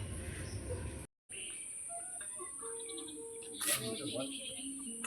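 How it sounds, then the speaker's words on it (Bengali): Chickens being fed grain at a home yard, clucking and cheeping softly amid chirping birds, with people talking throughout. "এখন মুরগিকে খাওয়াচ্ছে"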